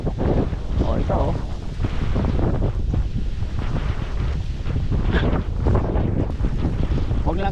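Strong gusts of wind buffet the microphone in a continuous roar, rising and falling, with faint voices underneath.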